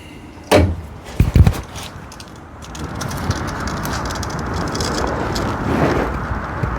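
A suspension spindle with a lower ball joint drops to ride height on a jack, giving two loud metallic thunks close by over a steady hum of shop noise.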